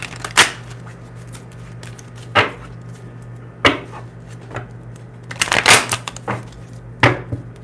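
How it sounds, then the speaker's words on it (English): Close-up card shuffling: several crisp riffles and snaps come in irregular bursts, with a longer flurry of rapid flicks near the end, over a low hum. "Bear with me as I shuffle."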